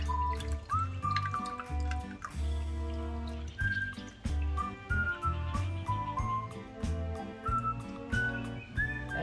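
Blended coconut liquid being strained while preparing sago in coconut cream, with liquid running and dripping as a stream of irregular droplets and small splashes, close and continuous with bright ringing tones throughout.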